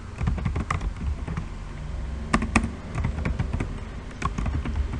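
Typing a command on a computer keyboard at a terminal, a run of quick key taps in uneven bursts with a couple of sharper strikes, close and moderately loud.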